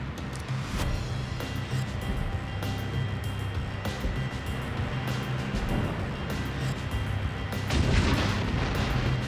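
Tank cannon fire and explosions as BTR armored vehicles are destroyed in an armored-warfare real-time strategy game, with repeated sharp booms over a steady low rumble of battle noise, heavier toward the end.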